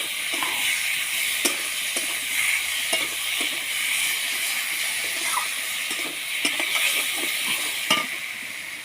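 Onion paste and chili paste fry in hot mustard oil with a continuous bright sizzle, punctuated by intermittent scraping clicks of stirring, close and fairly loud.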